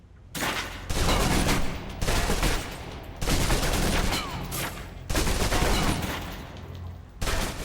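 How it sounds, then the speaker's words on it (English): A submachine gun in Alpha Protocol fires long sustained bursts, emptying its clip in several loud, continuous rattling volleys with brief gaps between them and no talk. "Now, let's move on to the submachine gun. Now let's empty the clip."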